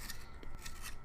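A Prismacolor colored pencil is turned in a pencil sharpener, giving close, faint scraping and rasping strokes of blade on wood, with a sharp click at the end.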